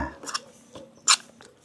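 Close, quiet chewing of a mouthful of rice, with soft wet mouth sounds and a few brief crunchy bites spread over a moment, no talking.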